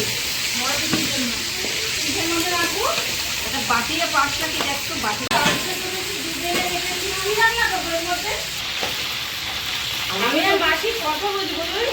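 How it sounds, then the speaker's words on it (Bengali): Onions sizzle and fry in a pan while being stirred for chicken chaap masala, a steady hiss that carries under a voice talking throughout. "পেঁয়াজ তো প্রথমে ভাজলো তারপরে কাঁচা লঙ্কা গেল"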